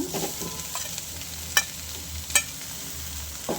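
Ivy gourd and tomato fry quietly on a medium flame for chutney, a soft low sizzle punctuated by a few sharp spatula clinks against the pan.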